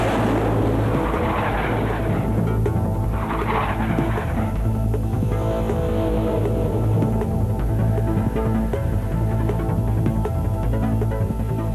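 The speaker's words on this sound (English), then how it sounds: "Training also involves the 6 jets flying in the Delta formation." Blue Angels jets flying in Delta formation roar steadily overhead during a landing approach, a sustained, moderately distant engine rumble with no talk.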